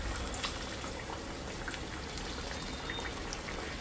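Small hand-patted vadas sizzle in hot oil, a steady close crackle and bubbling that holds at an even level throughout, with no talk.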